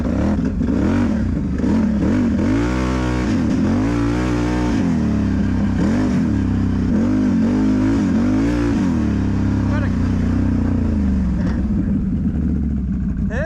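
A 2021 Can-Am Renegade 1000 XMR ATV engine revs hard in sport mode, loud and close, with repeated rising and falling surges of throttle over a steady rumbling idle.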